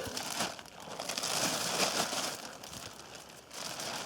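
A plastic bag crinkles and rustles steadily as freshly picked oyster mushrooms are packed into it in a forest, a close, continuous papery noise with small surges.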